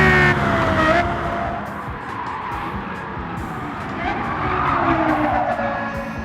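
A Lexus LFA's 4.8-litre V10 in Gran Turismo 7 revs hard toward 9,000 RPM, loud and continuous, its pitch sweeping up and down with a brief tyre-squeal edge.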